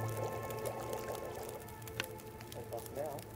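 Water poured in The Long Dark survival game, a soft liquid trickle with gurgling tones running for a few seconds over steady low background hum.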